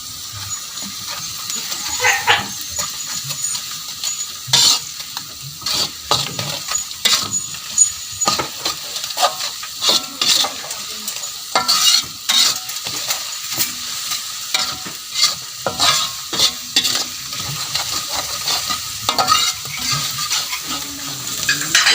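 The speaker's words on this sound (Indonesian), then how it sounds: "Bumbu halusnya dimasukkan." Ground spice paste sizzling and frying in a pan for a dish of river clams, with a steady hiss under repeated scraping stirs of a spatula against the pan, close and fairly loud throughout.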